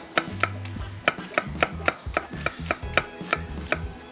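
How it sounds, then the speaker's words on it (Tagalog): Knife chopping onions on a cutting board while cooking coconut fish curry: a steady run of crisp, close taps about every third of a second, moderately quiet with a faint low kitchen hum, no talking. "Then, slice your onions."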